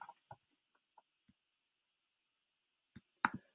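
Mouse clicks on an update button in WordPress: a few faint, isolated clicks spaced apart in near silence, then a sharper close double click.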